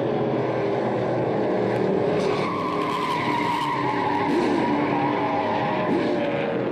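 Race car tires lock up and skid at turn one of a NASCAR Pinty's Series race at Canadian Tire Motorsport Park, a sustained tonal screech over engine roar lasting several seconds, loud and continuous with no talk.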